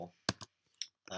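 Mouse clicks on a computer while working in GarageBand, a few sharp separate clicks close by, with a brief bit of voice at the start and end.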